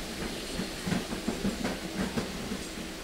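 Local train running on the Barasat–Hasnabad line, turning near Barasat, gives a steady rumble with a rapid series of clicking wheel-on-rail beats over constant hiss, close and moderately loud.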